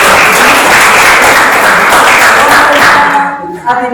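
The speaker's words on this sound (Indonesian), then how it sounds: "Tepuk tangan lagi." Students in a classroom applauding as a group, loud, close and continuous clapping that tapers off, followed by a voice talking in the final moments.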